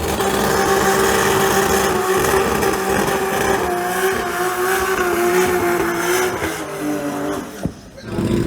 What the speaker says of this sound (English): Now that was an awesome burnout.